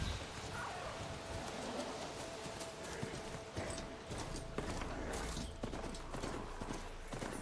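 A horse gallops in the video game Horizon Forbidden West, rapid rhythmic hoofbeats clip-clopping steadily under game ambience and background noise.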